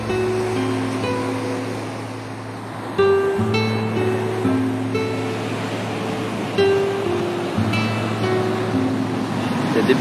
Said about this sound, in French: Des bêtes de vagues là